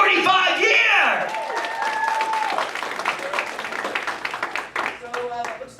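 An audience at a stage hypnosis show claps and applauds, a dense burst of clapping that slowly thins out, with people calling out and talking over it.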